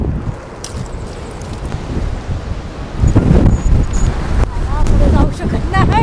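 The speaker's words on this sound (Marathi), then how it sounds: "जाम स्पीड आहे वारा." Strong gusty wind blowing by the sea in a coastal Konkan village during rain, roaring and buffeting the microphone, louder after the midpoint, with a voice briefly talking over it.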